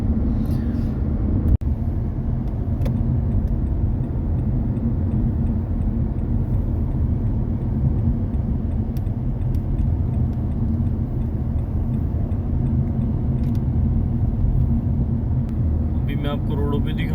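A car cruises along a near-empty road in the UAE on a quiet Sunday, its tank nearly out of petrol. A steady, droning engine and road rumble runs throughout, with a single sharp click early on.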